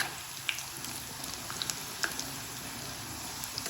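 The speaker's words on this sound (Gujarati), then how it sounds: "જે પ્રમાણે તમે તેલ મૂક્યું હોય એ પ્રમાણે પાપડી તળી" Papdi strips made from maida frying in hot oil over a lowered gas flame, a steady low sizzle with a few faint pops and crackles, no one speaking.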